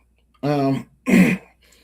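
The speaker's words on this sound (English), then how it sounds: "excuse me for coughing" Two brief, close coughs or throat-clearing bursts from one person, separated by a short pause, then silence.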